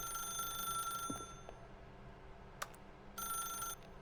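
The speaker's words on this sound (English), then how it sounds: "Atiende el teléfono." A telephone ringing in The Stanley Parable: Ultra Deluxe, a faint electronic bell trilling in two bursts separated by a pause, with a brief click between them.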